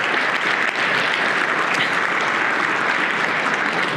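Audience applause at a SAINTCON 2023 security conference talk, a dense steady clapping filling the room at an even level from start to finish.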